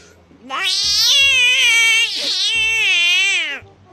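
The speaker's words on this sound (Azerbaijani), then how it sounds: "Ac və çox belə dəhşət yemək axtaran pişik səsi" A hungry domestic cat meows for food, two long, loud, drawn-out cries up close with a short break between them.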